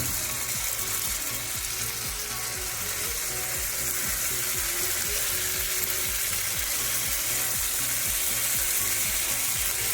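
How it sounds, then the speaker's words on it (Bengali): Spoonfuls of dahi vada lentil batter drop one by one into hot oil, giving a steady crackling sizzle with a rapid rhythmic bubbling texture, close and moderately quiet. "দেখুন, তেলটা আমার গরম হয়ে গেছে। এবার ঠিক এইরকম চামচে করে একটা একটা করে গোলার মতন আমি দিয়ে দেবো।"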